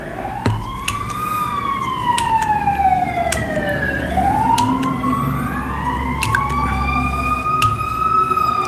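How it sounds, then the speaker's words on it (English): A police siren in Chicago wails, rising and falling in long sweeps over a low engine rumble, loud and close, with sharp clicks scattered throughout. "Wouldn't be Chicago without the sirens and the police."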